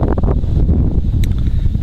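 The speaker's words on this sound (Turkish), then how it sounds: "Aşırı rüzgar var" Loud, gusty wind buffeting the microphone with a low rumbling roar, continuous throughout.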